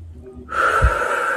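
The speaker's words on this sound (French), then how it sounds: "Faites une pause et prenez 10 respirations profondes." One deep breath drawn in sharply through the mouth, close and clear, a short audible gasp that carries on as a steady airy rush.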